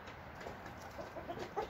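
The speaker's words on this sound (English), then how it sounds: "You're definitely a rooster." Rooster clucking on a homestead: a few short, soft clucks near the end, faint against a low outdoor background with no talking.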